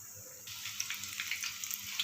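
Chicken pizza bread rolls fry in hot oil, a continuous close sizzle that swells after they drop in, with small bubbling crackles throughout and no voices.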